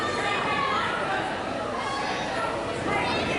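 Wrestling video game arena crowd chanting and chattering in a steady, dense wash, with a commentator talking over it.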